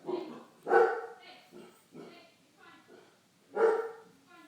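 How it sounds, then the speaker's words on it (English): Several dogs bark in short bursts, with two louder barks standing out among fainter yips, close by and somewhat muffled. "hold on, I've got dogs"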